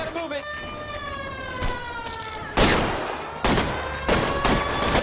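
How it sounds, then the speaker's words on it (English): Gunfire rings out in L.A. Noire, with several loud, sharp bursts of shots in the second half over a wailing police siren, while a voice talks at the start. "Shots fired. Shots fired."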